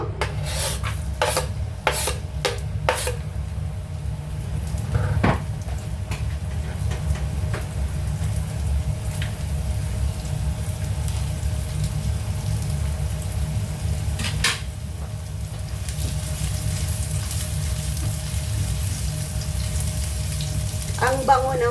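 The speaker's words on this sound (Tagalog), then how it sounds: "magigisa ako ng bawang" Garlic sautés in a wet-bottomed wok, a low steady sizzle underneath a series of sharp metallic scrapes and scratches at the start, with more scraping clatter later on.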